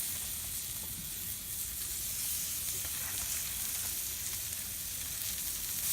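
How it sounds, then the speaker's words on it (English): Ribeye cap steaks sizzle loudly and steadily on hot grill grates coated with a little canola oil, a constant close-up hiss with no talking. "I have a little bit of canola oil on there, so it's going to sizzle pretty good."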